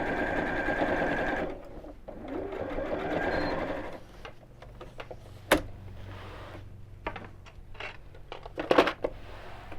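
A sewing machine stitching a child's backpack with a lengthened stitch runs in two short steady bursts, then gives way to scattered clicks, handling knocks and fabric rustles.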